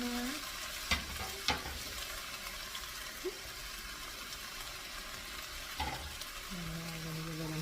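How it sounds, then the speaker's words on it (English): Minced garlic and tomatoes sauté quietly in a pan, a faint low sizzle under a few sharp clinks and scrapes of stirring, with a low hum running through. "I'm going to give it a nice stir. I'm pretty much going to saute this till it gets translucent"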